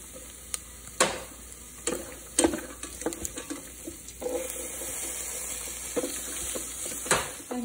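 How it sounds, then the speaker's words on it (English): Vegetables for coconut rice are sautéed in a pan, with a soft continuous sizzle and repeated spatula scrapes and knocks at uneven intervals, close and moderately loud. "Then add the vegetables and saute for about a minute."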